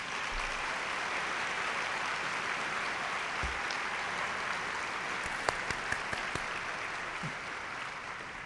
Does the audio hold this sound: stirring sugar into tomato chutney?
no